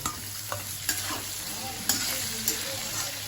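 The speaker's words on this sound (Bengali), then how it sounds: "শুধু হলুদটাই ভাজা হয়ে গেছে ঝিঙাটা একটুখানি ভাজা ভাজা হলে সম্বাদ দেবো" Ridge gourd fries with turmeric in hot oil, hissing and sizzling steadily up close, broken by a few sharp clinks of a spatula stirring the pan.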